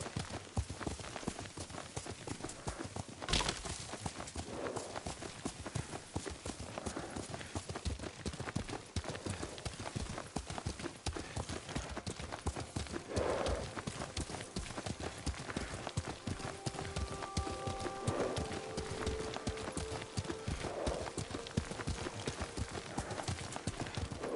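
Steady clip-clop of horse hooves at a brisk, even pace runs throughout, with a brief whinny-like tone partway through and faint speech underneath, from riding a horse in the video game Ghost of Tsushima.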